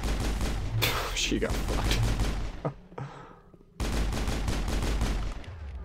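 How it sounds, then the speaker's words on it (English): Rocket fire during a Mass Effect mission on Noveria, loud blasts and rattling shots with a short quiet gap, and a voice speaking briefly over the combat. "Oh, the rockets."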